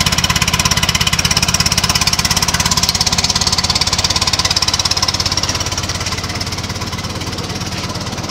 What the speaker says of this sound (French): On va faire un petit check au niveau du moteur. Elle tourne assez bien.